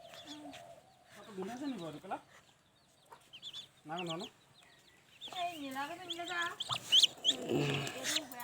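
Chinese geese honk and gabble in short, separate bursts at close range, growing busier and more overlapping toward the end, over a quiet background.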